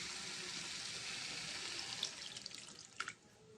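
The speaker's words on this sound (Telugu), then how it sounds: "దీంట్లో కొంచెం వాటర్ వేసుకుందామండి." Water is poured from a tap or vessel into gongura curry while cooking, a faint steady splashing stream that thins toward the end into a few drips and light clinks.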